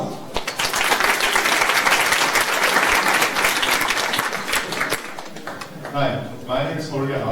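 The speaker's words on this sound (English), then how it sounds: "Let's give him one round of applause." A meetup audience claps steadily for a speaker, dense close applause filling the room for about five seconds before fading into scattered claps and a voice beginning to talk.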